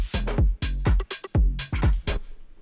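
An electronic music drop with a white noise impact layer, built from punchy bass-heavy hits and bright noisy bursts in a choppy, syncopated groove, loud and alone.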